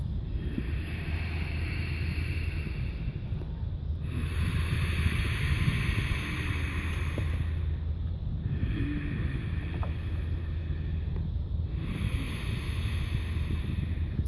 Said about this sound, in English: So if you don't know the ujjayi breath, imagine that you're misting a mirror with your breath.